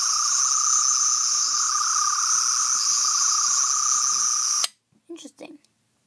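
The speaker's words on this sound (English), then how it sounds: "You can hear a slight chirping." A toy sonic screwdriver gives off a loud, steady high-pitched chirping trill that holds for several seconds, then cuts off sharply and is followed by a few faint clicks and handling sounds.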